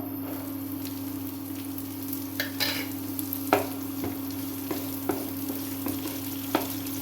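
Onions hiss steadily as they fry in a pan, a constant sizzle under a low mechanical hum, with occasional soft clicks and scrapes of stirring and nobody speaking.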